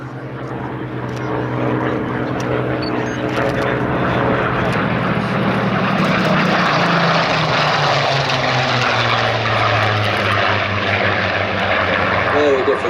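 Supermarine Spitfire Mk IX propeller engine drones loud and steady at an airfield, a deep rumbling roar that builds and holds, with people talking over it.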